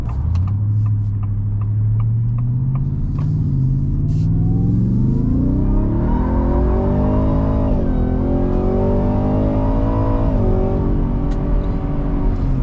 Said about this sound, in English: That's the first time in the whole video I went wide open throttle finally.